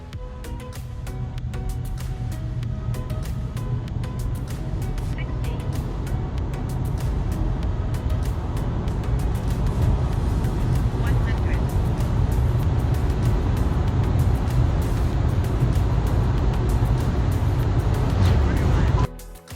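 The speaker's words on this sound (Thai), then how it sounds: "แล้วก็ไปดูอัตราเร่งครับ กูดแคทหมดโนมอลครับ" Cabin noise as a 2024 ORA Good Cat Ultra electric car accelerates in Normal mode, a steady road and tyre roar building gradually over about twenty seconds with someone speaking over it.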